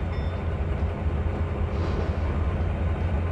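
A GP40-2 diesel locomotive approaching in the Trainz 2022 railroad simulator, a steady low engine rumble with a broad mechanical roar, fairly loud and unchanging, with no speech.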